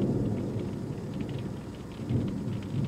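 Steady rain falls with low rumbling thunder outside an RV during a storm, a constant loud hiss over deep rolling rumbles that swell slightly near the end, with no voices.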